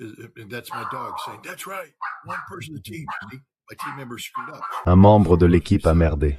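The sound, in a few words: dogs barking, interrupting the podcast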